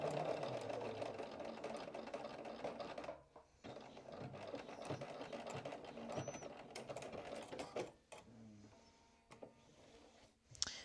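A sewing machine stitching slowly over a seam of a Cashmerette Hartwell vest, a steady close mechanical whirring and clatter that runs for several seconds, pauses briefly, then resumes more faintly.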